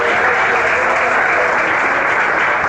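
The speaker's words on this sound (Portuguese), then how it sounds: "E bate palmas." A church congregation claps hands together in steady, dense applause that stays loud and even from start to finish, with no pauses.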